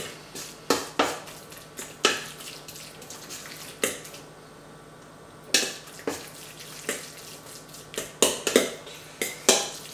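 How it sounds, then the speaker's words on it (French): Salmon rillettes being mixed with fresh herbs in a bowl, with a spoon knocking and scraping against the bowl in irregular clinks and clatters at close range, with no talking. "On va donc continuer à mélanger."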